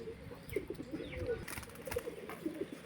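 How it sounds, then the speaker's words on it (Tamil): Domestic pigeons coo in soft repeated bursts, close by, with a brief flutter and rustle as one bird is let go. "அந்த புறாவை எடுத்து விட்றேன்"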